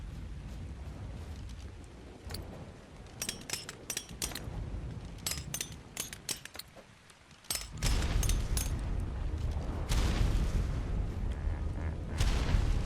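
Grenade blasts during a raid on a stone base in Ark Ascended, a run of sharp booming bangs and crackling bursts at mid distance, followed by a heavier rumbling stretch of explosions, with occasional faint voices.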